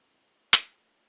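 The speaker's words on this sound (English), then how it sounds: "if you're listening, you can hear it. Glock trigger." A single sharp trigger break click from a Glock 19 pistol, close and crisp, preceded by quiet take-up, with a quick decay into silence and no talking.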